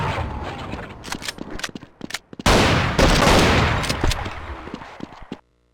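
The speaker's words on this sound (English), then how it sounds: "In this part in Vertigo, there's actually these turrets that start shooting, and you can actually make them shoot each other and destroy each other." Rapid bursts of turret gunfire from Counter-Strike on the Sega Dreamcast in the Vertigo training course, sharp cracks building into a dense, loud barrage of overlapping shots before cutting off abruptly.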